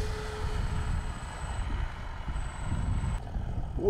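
A Flightline Velocity 950 RC plane flying at mid throttle in strong wind, its motor producing a thin high whine that rises and fades over a rough, gusty wind rumble.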